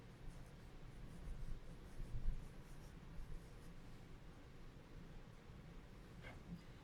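Pen strokes scratch steadily while a visual model of five pizzas split into thirds is hand-drawn for a division lesson, a faint, continuous scribbling over low background hiss.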